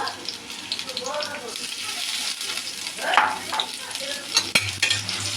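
Noodle paste frying in a hot pan while being stirred for a soup-and-noodles dish, giving a steady close sizzle with scraping stir strokes and brief bursts of hiss throughout.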